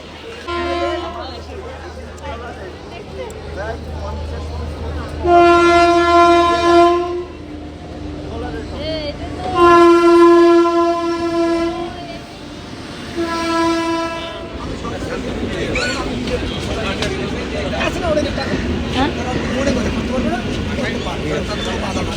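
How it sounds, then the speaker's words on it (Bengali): An arriving train's horn blares in two long, loud blasts, separated by a pause, while rail clatter and background voices continue throughout. "ট্রেন আমাদের চলে এসছে ওই যে হর্ন দিচ্ছে"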